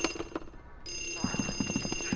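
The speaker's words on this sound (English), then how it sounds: "Now this telephone is ringing." A telephone rings in the Luigi's Mansion video game, a rapid electronic bell trill after a brief gap, bursting in quick repeated pulses over game background sound.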